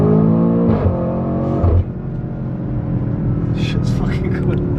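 An 800hp BMW X5M Competition roars through a hard pull, engine note climbing loud and close, then dropping off to a rumbling drone with voices over it.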